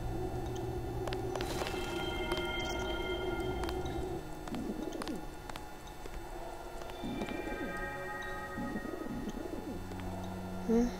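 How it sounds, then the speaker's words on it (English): A pigeon in the video game Deus Ex coos several times in a soft, repeated rhythm over a steady ambient hum and faint game sounds. "Oh, it's a pigeon."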